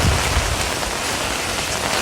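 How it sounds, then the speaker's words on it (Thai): Heavy rain from Cyclone Nivar in India pours down in a loud, dense, continuous hiss, close and unbroken, with no voices heard. "ฝนยัง ยังแรงนะ"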